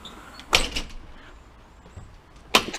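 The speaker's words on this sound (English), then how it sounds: "The door opens and closes good again." A house door with a squeezed-shut washer hinge fix swings open and closes, two distinct clunks about two seconds apart with a quiet gap between, close and fairly loud, no talking.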